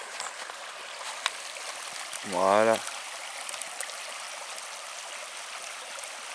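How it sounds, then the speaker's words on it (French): A small river in the Vosges flows steadily close by, a continuous broadband rush of water under a brief spoken word. "avec une belle petite rivière juste à côté"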